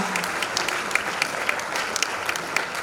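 An audience claps steadily at a 60th birthday celebration for an archbishop, with continuous dense applause and scattered sharper claps standing out near the listener, without clear cheering or talk.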